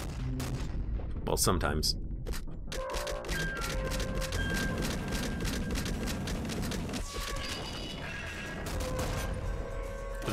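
Rapid bursts of weapon fire and explosions from the video game Nuclear Throne crackle continuously under electronic game tones, with someone speaking briefly over the clatter.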